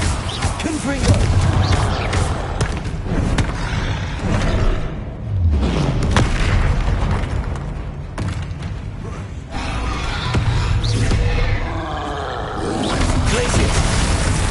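Confringo blasting spell cast in a video game, heard as a run of dull booms and heavy thuds with creaking, mechanical clatter, rising and falling in loudness over a busy game soundscape.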